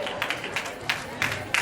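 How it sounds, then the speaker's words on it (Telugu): An audience at a family gathering claps in a brief burst of uneven applause, with a few sharper claps standing out nearby and voices murmuring underneath. "మనం కూడా ఒకసారి క్లాప్స్ కొట్టాలి"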